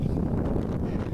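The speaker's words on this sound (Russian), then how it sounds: "Постоянные ветра, метели." Steady wind gusts over a bare, snow-swept open field in winter, a constant rushing roar with microphone buffeting, loud and continuous throughout.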